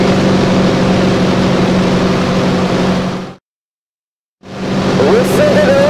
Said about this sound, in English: Listen to those engines as we get ready to go.